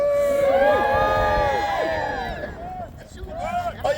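A crowd at an Easter medieval festival battle at Arundel Castle cheers and shouts loudly and continuously, voices rising and falling close by, with someone speaking over the noise.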